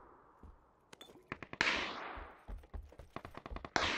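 Bursts of automatic gunfire in PUBG, a rapid string of sharp cracks with one louder, denser volley in the middle, fairly close and with no talking.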